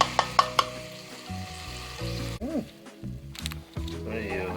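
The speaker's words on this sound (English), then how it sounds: "Now I'm going to add my adobo sauce that I made." Homemade adobo sauce hits browned meat in a hot pan and sizzles steadily, with stirring clatter and scrapes close by and a voice speaking briefly over the frying.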